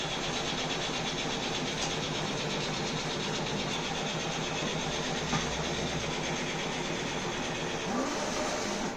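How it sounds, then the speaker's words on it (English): An entrance conveyor belt of an automatic sky car parking system, driven by a PIC microcontroller, runs steadily with a continuous mechanical rumble and whir, carrying a vehicle out, with no pauses throughout. "now you can see this entrance belt is running to send this vehicle to outside"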